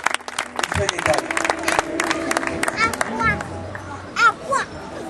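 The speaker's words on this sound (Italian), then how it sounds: "diamo un forte applauso al Signore" An evangelistic campaign congregation in Ragusa claps in a dense, lively burst that blends with cheering and chatter, while voices and children call out over it and a loud shout rises near the end.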